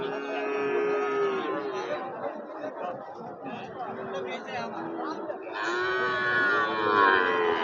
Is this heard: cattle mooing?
yes